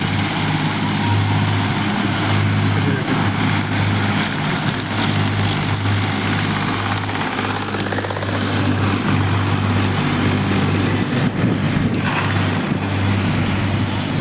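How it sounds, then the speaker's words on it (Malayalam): A tractor passes on a road beside a highway bypass construction site in Malappuram, its steady low engine drone loud and continuous throughout, with no talk. "ഒരു ട്രാക്ടർ"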